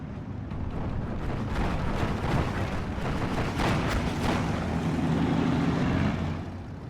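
A Spitfire strafing a Panzer IV-H in Steel Division 2, heard as a sustained roaring rumble of engine and cannon fire with dense crackling bursts, steady and loud for several seconds with no talk.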